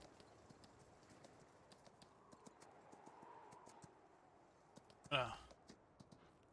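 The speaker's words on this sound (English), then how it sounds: "I'm riding the horse right now" A ridden horse in a modded video game clip-clops at a steady walking pace, the hoof taps soft and regular over a low background hum, with a brief louder burst near the end.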